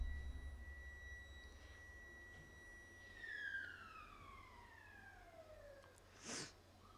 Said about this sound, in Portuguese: Tenebrosa essa sirene, né, gente?